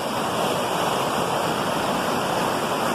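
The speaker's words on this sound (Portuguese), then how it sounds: "Eita, cachoeira danada." A powerful waterfall pours over rocks, a steady, close roar of rushing water filling the whole clip with no voices.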